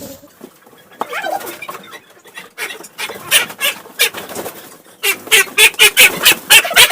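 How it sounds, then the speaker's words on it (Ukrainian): An adult Muscovy duck gives a run of hoarse, breathy hissing calls, close and loud, in bursts that grow denser toward the end. "Оце доросла минулорічна качка"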